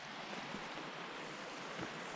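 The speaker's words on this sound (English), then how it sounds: "Oh, wow. Beautiful little waterfall." A small waterfall on a mountain hillside in Colorado's San Juan Mountains rushes steadily, a continuous broadband wash of water with some wind noise, and no talking.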